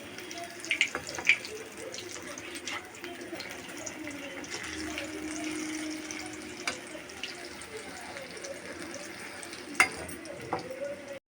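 Onion bhaji frying in hot oil as the fritters are flipped over, a steady sizzle with a few sharp splashes and clinks of the utensil, close and fairly quiet.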